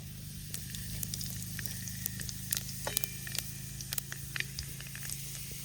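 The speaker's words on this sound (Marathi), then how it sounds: "तेल गरम झालं, जिरं टाकतो." Cumin seeds sizzle in hot oil in a pan, a steady close frying hiss with scattered sharp crackles and pops, alone with no voices.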